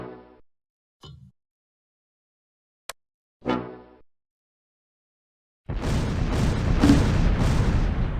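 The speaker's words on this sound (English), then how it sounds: "The mortar runs out of smoke after only 4 rounds." A few sparse, distant thuds from a mortar firing smoke rounds in the World War II strategy game Close Combat 4, separated by silence, followed by a dense, steady wash of battle noise.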